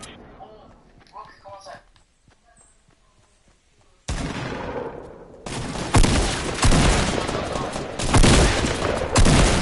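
Shotgun gunfire in Fortnite, heavy booming blasts and dense battle noise filling the second half after quieter talking and game sounds.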